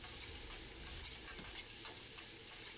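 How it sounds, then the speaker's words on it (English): Vegetables searing and being stirred on a hibachi grill, a soft, steady sizzle with faint scraping stirs, close but quiet and uninterrupted by talk. "move those veggies to the center to sear in that flavor"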